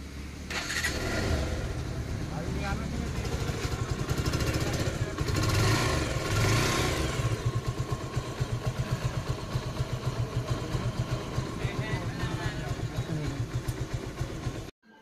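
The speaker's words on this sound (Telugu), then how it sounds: "బైక్ స్టార్ట్ చేసి ఆ వీడియో అయితే పెడతాను నేను" A Bajaj Pulsar motorcycle engine, repaired after an oil bolt chamber crack, started in a mechanic's workshop and left running, a loud close rattling idle with a rapid even pulse and brief revs, faint talk underneath.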